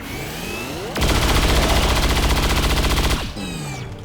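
A sustained burst of rapid automatic gunfire in the video game XCOM 2, loud and close, running for about two seconds of steady, evenly spaced shots with a faint electronic sweep before and after.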